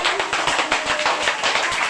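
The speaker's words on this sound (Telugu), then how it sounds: "అందరూ ఒకసారి క్లాప్స్ కొట్టండి" Children clap together in a classroom during Children's Day preparations, a loud, close, continuous burst of rapid, uneven group applause.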